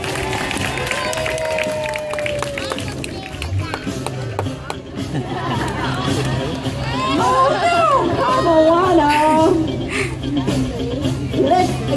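Crowd noise from an audience at a Sea Life Park show, a steady roar of voices with rising cheers and shouts building near the end, mixed with an announcer's amplified talk and whistles.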